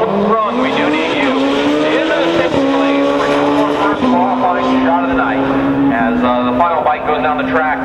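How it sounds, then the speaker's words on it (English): Extreme and street bikes and sleds blast down a drag strip during a night qualifying round, one loud, sustained engine whine climbing in pitch and stepping down sharply at each gear shift over roughly eight seconds. "Goes down the track for round one of qualifying in our extreme and street bikes and sleds."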